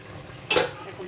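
Oil and garlic hit a hot pan for tempering bottle gourd curry, giving a sudden loud hiss that swells for about a quarter second and then trails off into a quiet crackle.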